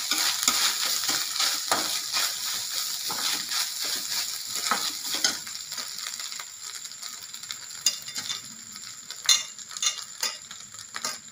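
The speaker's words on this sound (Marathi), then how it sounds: "आता मी हे खोबरा किस पण टाकून घेते याच्यात, आता परतून घ्यायचं।" Grated coconut sautéed with dry fruits in a pan for Maharashtrian narali bhat (sweet coconut rice): a steady close frying hiss with repeated scraping stirs and small clinks of the spatula, no talking.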